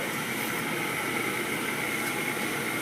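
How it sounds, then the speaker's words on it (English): The draft inducer motor of a Rheem Imperial 80 Plus gas furnace runs with a steady, even whir and hum. The sound is close and constant, with no talk over it. "We have our draft inducer motor."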